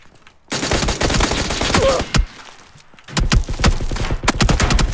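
Loud, dense bursts of gunfire in the battle-royale video game PUBG (Battlegrounds): two long rapid volleys split by a brief lull and a single sharp shot, close and overwhelming, with no voices.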